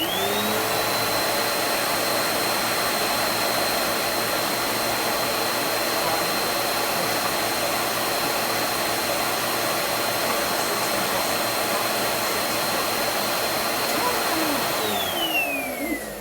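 Vacuum cleaner running in a room, a loud, steady whine and roar that continues unbroken, then winds down near the end.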